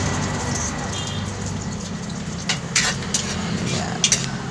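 An egg frying in a pan for fried rice: a steady crackling sizzle runs throughout, with a few sharp utensil clinks and scrapes near the end and faint voices in the background.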